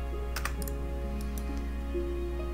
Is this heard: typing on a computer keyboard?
yes